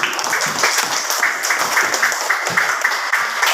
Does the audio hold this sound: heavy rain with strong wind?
no